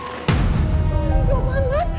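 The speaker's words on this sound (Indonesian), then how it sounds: "Itu kok kayak suara tembakan ya?" A single sharp gunshot cracks loudly at the start of a dramatic TV scene, followed by a sustained rumbling background with faint tonal music or sirens underneath.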